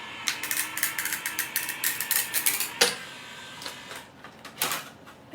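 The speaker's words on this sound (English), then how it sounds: "I'm usually not having so much trouble with my embossing machine here today." A die-cutting embossing machine being hand-cranked for card making, giving rapid ratcheting clicks and gear rattles with a heavier clunk partway through, then slower scattered clicks, close and moderately loud.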